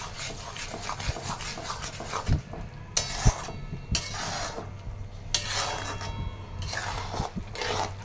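A spoon scrapes and stirs moong dal khichdi with spices in a pan, giving repeated close rubbing and scraping strokes with occasional knocks against the metal, steady and without talk.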